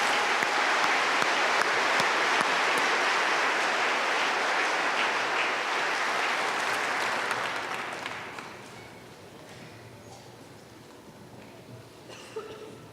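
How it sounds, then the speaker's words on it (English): A large audience at a university undergraduate commencement applauds in a dense, steady wash of clapping that fades out after about eight seconds into a quiet hall. "Please join me in a round of applause for these individuals."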